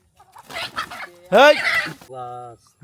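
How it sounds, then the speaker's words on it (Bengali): Alipur chickens on a farm give several short clucks and one longer rising call, close and fairly loud, with a voice nearby. "সুন্দর লাগছে দেখছো আলিপুর মুরগি"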